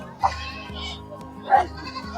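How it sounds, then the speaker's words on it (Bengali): A Jamnapari goat at a livestock market bleats twice in short, close calls, with people talking and children's voices around it. "রাম ছাগল দেখতে পাচ্ছি এটা কি চাচা রাম ছাগল না"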